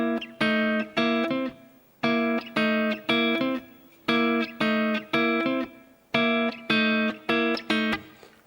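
Electric guitar repeating a short blues lick in C at a medium swing, clean picked note groups in regular phrases with gaps between, played alone.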